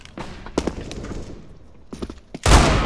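Bursts of gunfire in CS:GO crack out in short volleys, spaced apart then a loud close burst near the end, no voices over them.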